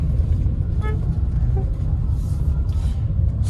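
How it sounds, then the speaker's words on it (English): An automatic car being driven during a lesson in Lagos, heard as a steady low engine and road rumble from inside the cabin, with a brief horn toot from nearby traffic. "Then I'm accelerating right now."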